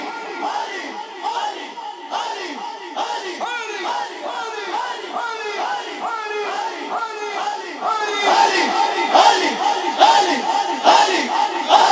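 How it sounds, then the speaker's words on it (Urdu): A large crowd at a Muharram gathering in an imambargah chants "Ali" in unison, a steady rhythmic repeated shout that grows louder toward the end, filling the hall. "تو مل کر بولو علی علی علی"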